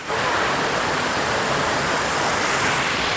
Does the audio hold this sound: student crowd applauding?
no